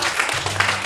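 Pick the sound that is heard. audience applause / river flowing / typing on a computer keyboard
audience applause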